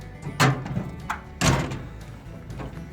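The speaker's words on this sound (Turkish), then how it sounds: "Kaput gayet güzel kapanıyor." Two heavy metallic thunks land about a second apart as the hood of a new Tümosan 8095 tractor is slammed shut, with softer clanks and rattles around them, close by.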